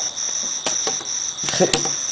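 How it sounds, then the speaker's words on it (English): A cricket chirps right beside the camera in a steady, shrill, high-pitched trill, with a few sharper louder bursts and faint background noise. "Jiminy Cricket. He's on the camera now."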